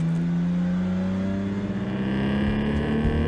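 Pro3 race cars at speed on a circuit, a continuous loud engine drone with steady tonal whine and slight pitch shifts as the cars hold and lift throttle, no voices.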